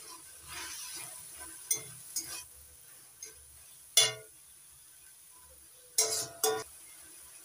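Chopped spring onion greens stirred into a frying egg and brinjal curry masala, with soft sizzling and scattered spatula scrapes and metallic clinks against the pan, a few sharp louder knocks standing out.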